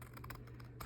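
Scissors snip through paper card to cut out circles for stamped cards. A few short, crisp cuts sound close by over a steady low background hum.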